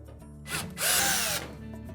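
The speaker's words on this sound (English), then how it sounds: "we'll remove those two screws on the lower half of that support." Power drill backing screws out of the top support on an LG washer, two short whirring bursts, the second longer and louder, close up with a quiet hum between them.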